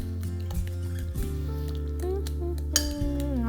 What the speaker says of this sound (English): now I'm just going to take my fork and keep mashing and stir these together